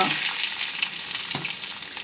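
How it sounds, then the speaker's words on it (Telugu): Mustard seeds, cumin, dried chillies and asafoetida crackle and sizzle in hot oil for a tomato rasam tempering, a steady bright frying hiss with a brief stir or pop partway through, close and without talk. "నూనె వేడైంది తాలింపు పెట్టుకుందాం ఆవాలు జీలకర్ర ఎండుమిరపకాయలు కొద్దిగా ఇంగువ"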